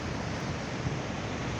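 Water rushes loudly down a large village canal, a dense, steady roar of flowing water heard close with no voices.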